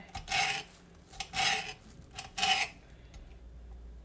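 Vegetables being prepped with a kitchen knife for a ramen stir fry, three rasping cuts or scrapes on a board at a moderate level, followed by quieter kitchen noise.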